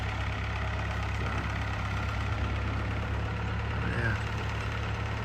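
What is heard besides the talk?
tractor engine running with bush hog attached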